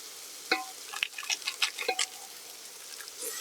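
A few quiet scraping stirs in a frying pan with chili powder, garam masala and coriander powder for a chicken gravy, clustered in a short burst and then fading to near silence.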